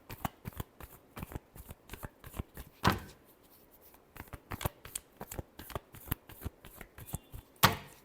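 Tarot cards are shuffled by hand close up, a quick run of soft papery slaps and flicks with a couple of sharper snaps, fairly quiet overall.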